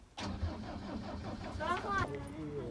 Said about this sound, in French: on va rouler, on va démarrer.